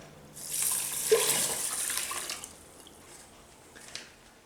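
Water pours into a rice cooker bowl in a kitchen, a splashing gush lasting about two seconds that settles into softer trickles and faint drips.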